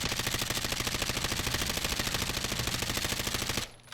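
Hip-fire machine gun bursts in Call of Duty, a rapid unbroken stream of evenly spaced shots firing loud for over three seconds before cutting off abruptly into quiet.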